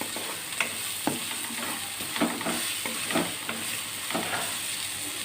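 Gongura and meal maker (soya chunk) curry fries in a pan with a steady soft sizzle, broken by intermittent scraping stirs close at hand.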